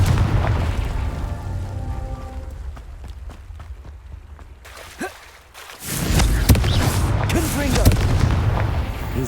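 Confringo fire-blast spell exploding in the Hogwarts Legacy video game, a sharp boom that cuts off a steady rumbling bed, followed by louder roaring, crackling blasts under a raised voice.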